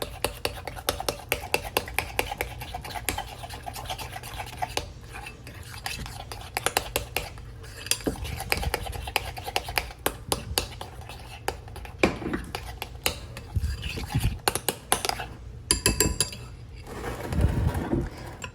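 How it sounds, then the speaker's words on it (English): Keto spicy tuna salad is mixed in a bowl, with a rapid run of soft metallic clinks and scrapes of the utensil against the bowl, close and fairly quiet, and a louder scrape near the end. "And then we're just gonna blend that all together."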